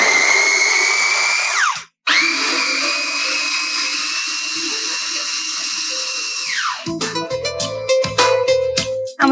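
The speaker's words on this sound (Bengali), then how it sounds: "এবং আমরা একটি মেশিনে এটা দিয়ে দিচ্ছি। আচ্ছা, আমি কিমা করে নিচ্ছি।" An electric mincing machine grinds meat for kebab, a loud high whine running steadily, cutting out briefly, then resuming before winding down into uneven clattering bursts.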